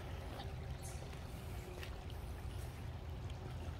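A creek flows steadily outdoors, a continuous close rush and trickle of water with no pauses.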